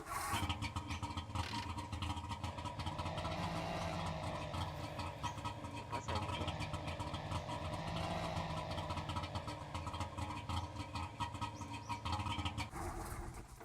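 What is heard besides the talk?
car engine running in video game The Long Drive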